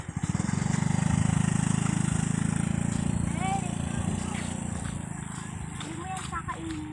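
A motorcycle engine drones steadily nearby on a rural road, its low rumble holding throughout while people call out and talk over it.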